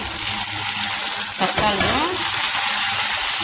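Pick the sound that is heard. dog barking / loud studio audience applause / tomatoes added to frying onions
tomatoes added to frying onions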